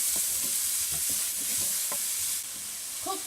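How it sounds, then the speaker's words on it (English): Chopped onions with salt sizzling in a pan while being stirred, a constant hiss with soft scraping strokes of a utensil, near and steady. "Cook the onions until it goes like very light brown."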